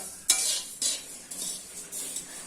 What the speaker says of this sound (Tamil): நான் பெரிய கடாயினால எல்லாத்தையும் போட்டு வறுத்துட்டேன்